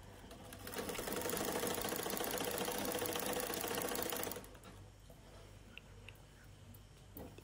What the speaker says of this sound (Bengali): বরাবর সেলাই করে যাবো